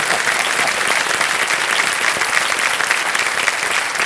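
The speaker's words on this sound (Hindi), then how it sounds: "तालियां बज जाए" A studio audience claps on a quiz-show set, dense steady applause that holds at an even loudness throughout with no voices over it.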